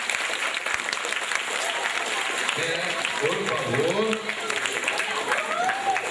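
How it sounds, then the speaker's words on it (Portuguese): A standing audience applauds teacher Yolanda with loud, continuous clapping and crowd noise while a voice speaks over the ovation. "Todos de pé para a gente aplaudir a professora Yolanda."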